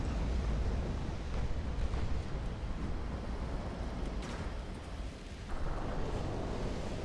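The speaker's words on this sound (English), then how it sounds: "Here's a torpedo hit." In the naval warfare game Ultimate Admiral: Dreadnoughts, a torpedo strikes a warship with a deep, rumbling explosion that booms steadily over continuous low noise, with a brief dip and renewed roar near the end.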